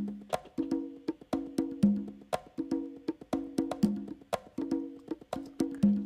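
Two percussion parts panned apart in a funk song mix, one closer and one further out, clicking and knocking together in a tight repeating groove over a steady low note.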